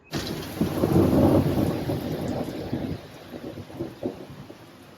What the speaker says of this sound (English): It's gonna start storming soon.